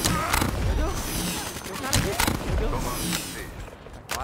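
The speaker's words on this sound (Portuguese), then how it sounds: "Não acredito que eu errei esse tiro." Gunshots ring out in a shooter video game, a rapid string of sharp cracks and bursts amid chaotic game effects, with someone talking over the action.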